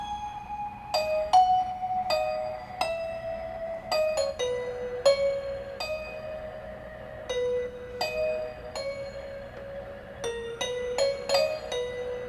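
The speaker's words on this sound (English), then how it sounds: "So I found a xylophone, a pluck," Lofi bachata solo on xylophone, pluck and vibraphone synth voices, bright struck notes in a loose, unquantized rhythm over a soft, steady backing, clear and alone.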